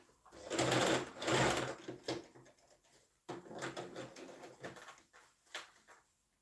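A sewing machine in need of oiling stitching a kid's shirt, running in two loud whirring bursts with a steady mechanical drone, then shorter uneven runs, close by.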